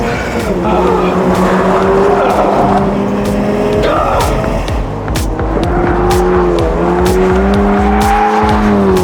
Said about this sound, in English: if you ask it to get sideways, it will, even if you have stability control on